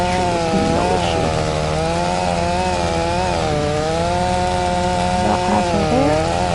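In Farming Simulator, a steel chainsaw drones loudly and continuously through a huge tree trunk, its pitch sagging and recovering several times as the cut bogs under load and clears again.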